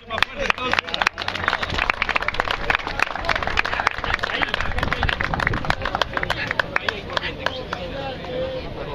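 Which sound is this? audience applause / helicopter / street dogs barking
audience applause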